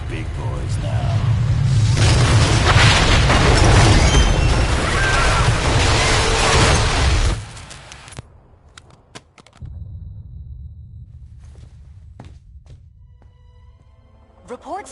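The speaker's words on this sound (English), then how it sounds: "indicate a massive explosion in a residential neighborhood" A massive explosion in the video game Marvel Ultimate Alliance 2, a loud roaring blast and rumble lasting several seconds that drops away abruptly, followed by scattered debris clatter and faint sounds.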